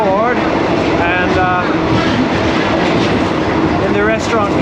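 Thai passenger train running on the Bangkok–Chiang Mai northern line, heard from inside as a steady loud rumble and rattle of the carriage with faint squeals, continuous and close.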